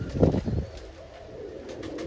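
Roller pigeons coo softly inside a small loft box holding over 50 birds, a brief low burst of cooing at the start followed by quieter murmuring and faint background hiss.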